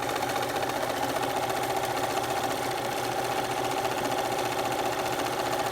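Domestic sewing machine running steadily at full speed while stitching coiled rope into a bowl, a continuous whirring motor drone with a fast mechanical needle rhythm, close and unbroken throughout, with no talk.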